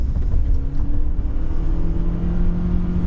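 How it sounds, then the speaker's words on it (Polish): A DENZA Z9 car accelerates at full throttle in Sport Plus mode, giving a loud, continuous drive whine and road roar from inside the cabin, with a tone rising steadily over a few seconds. "potwierdzenie Sport Plus Mode aktywny i pełen gaz."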